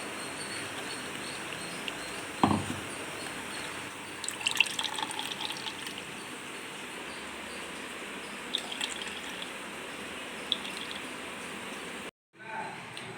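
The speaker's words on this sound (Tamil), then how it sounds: "இது ஒரு ஃபில்டர் வச்சு நல்லா வடித்து எடுத்துக்கலாம்." Coconut milk ground with cardamom and water is strained through a filter, giving a steady, low trickle of liquid with occasional faint drips and small clinks, and no talk over it.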